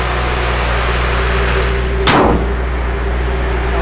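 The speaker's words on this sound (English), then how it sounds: "Electric fan, you can hear it rolling." A 1955 Chevrolet 3100 truck idles with a steady low engine hum while its electric fan whirs continuously, broken by one brief sharp knock midway.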